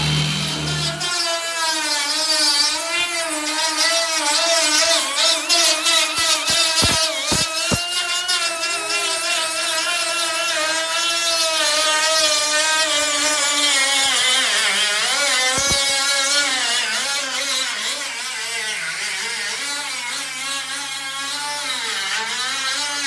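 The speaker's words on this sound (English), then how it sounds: "Chuck Sherman on grinder" An angle grinder runs steadily through rust repair on a 1959 Ford Galaxie, giving a loud, continuous whine whose pitch dips and recovers as the disc bites into the metal, with a few sharp clicks, for over twenty seconds and no talk.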